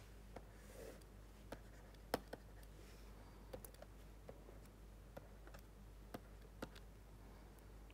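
A lecturer drawing a plate element on a classroom board makes faint, scattered taps and scratchy strokes over a quiet room hum, with no talking.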